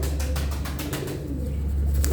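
Purebred pigeons in a loft in Ankara coo softly while wings flap in quick bursts, several close flutters early on, then calmer low cooing.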